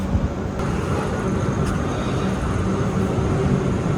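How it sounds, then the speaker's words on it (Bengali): Steady low rumble of the Coromandel Express train pulling away from Bhadrak station, continuous rolling noise heard from aboard with no voices. "আমাদের ট্রেন ভদ্রক স্টেশন থেকে ছেড়ে দিল"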